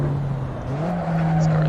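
A mid-engine Alfa Romeo 4C in the racing game Assetto Corsa, its engine droning steadily and rising slightly in pitch as it revs, close and continuous.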